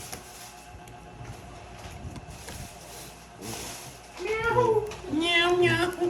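A voice imitates a cat, giving two or three drawn-out meows close by in the final seconds, after a stretch of low background chatter and noise around a tongits card game.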